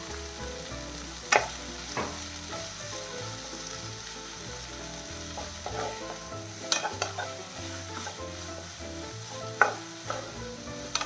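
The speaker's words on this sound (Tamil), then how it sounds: "தக்காளி வந்து ஓரளவுக்கு வதங்கி இருக்குது." Tomatoes sautéing in a pan for a stew, a low steady sizzle with occasional scraping and stirring knocks of a utensil against the pan, close and fairly quiet, with no voices.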